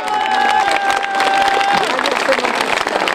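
Crowd of townspeople applauding as President Miloš Zeman leaves the stage in Hlučín, steady dense clapping close by throughout, with a brief tonal whistle-like line and faint voices mixed in.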